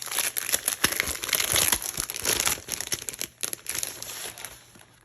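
Paper flyer card handled close up, giving continuous crisp crinkling and rustling that fades slightly toward the end.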